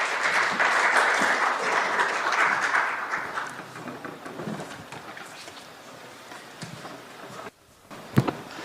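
Big round of applause from a conference audience in Seoul welcoming a KEPCO vice president, loud and dense at first, then thinning out to scattered claps before fading.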